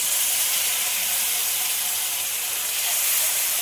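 Steady, loud steam hiss from a little water poured into a hot pan while cooking mango-flavoured chira pulao with sugar, a continuous broadband sizzle with no voices.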